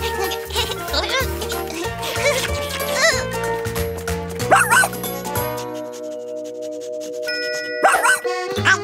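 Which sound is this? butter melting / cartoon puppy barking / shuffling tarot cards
cartoon puppy barking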